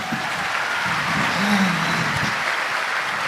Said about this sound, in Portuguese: Por favor, que nós salve de palmas para eles.